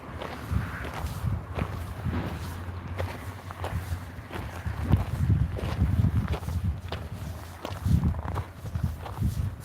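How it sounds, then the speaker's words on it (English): Footsteps walk up an incline at Hansen Dam, a steady rhythm of scuffing steps on dirt close by, with faint rustling between them. "It's hard walking up inclines"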